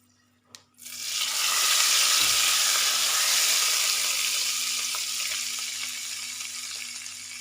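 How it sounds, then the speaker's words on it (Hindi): A hot chana dal tadka, cooked until lightly red, is poured onto boiling spinach, setting off a sudden loud sizzle that stays strong and slowly fades over several seconds, with no talking. "जब इसका कलर हल्का हल्का रेड हो जाए उसके बाद आपने इसको उबलती हुई पालक के ऊपर शामिल कर देना है"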